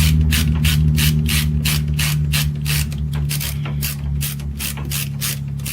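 Rapid, evenly spaced clicks of a ratchet snugging the oil drain bolt on a Yamaha Warrior ATV, close and loud, a long run of strokes with no talk.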